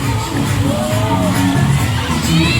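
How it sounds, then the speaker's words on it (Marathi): A busy Sunday crowd at a resort fills the air with overlapping chatter, children's shouts and excited whoops, a dense, lively hubbub close around. "आज संडे असल्यामुळे गर्दी पण खूप आहे."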